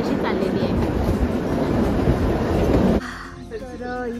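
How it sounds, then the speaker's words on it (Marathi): The Shimla–Kalka toy train rumbles along steadily with a dense, rattling roar that cuts off abruptly, leaving quieter ambience and faint voices. "परत ही ट्रेन अशी चाललेली आहे."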